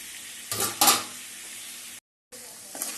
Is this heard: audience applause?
no